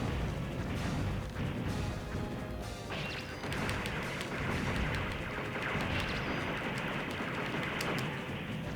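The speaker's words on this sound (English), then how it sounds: "I'm going to use the bomb." A bomb going off in a retro shoot-'em-up video game, dense continuous crashing explosion noise with rapid crackling bursts layered over busy game sound, loud and sustained.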